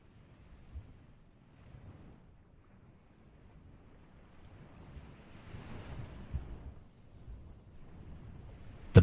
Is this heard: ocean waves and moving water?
yes